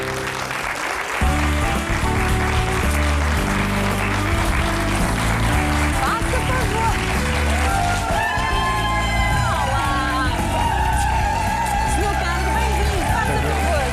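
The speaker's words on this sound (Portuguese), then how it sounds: "Eu peço um enorme aplauso para o Padre Marcelo Rossi." A large audience in a prison applauds loudly and steadily for a priest, with cheering and whoops rising over music playing throughout.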